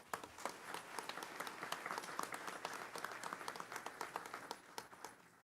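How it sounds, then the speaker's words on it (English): A board meeting audience claps in a sustained round of applause, a quiet but steady rapid patter of many hands that holds throughout and stops abruptly at the end. "let's give them a round of applause"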